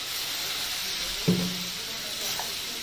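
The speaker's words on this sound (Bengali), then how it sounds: "দিয়ে দেবো একটু সামান্য জল" A little water goes into a pan of frying banana peels, setting off a brief hiss and splash over a steady background sizzle, with a faint voice in the background.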